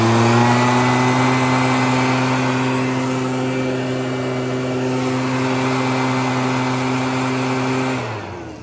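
A Japanese Mitsubishi leaf blower's small engine runs close by at a steady, loud idle with a buzzing harmonic drone, then cuts off near the end.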